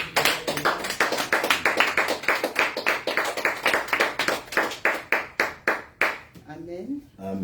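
Congregation clapping hands together in a rhythmic, steady beat during a church service, loud and close, with voices singing or calling beneath the claps before the clapping stops near the end.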